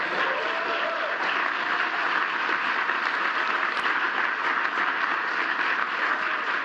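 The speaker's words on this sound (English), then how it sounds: "Let's give one more round of applause for this year's Presidential Freedom Recipient" A large audience at a Presidential Medal of Freedom ceremony applauds steadily and loudly, a dense wash of clapping that holds at full strength throughout without letting up.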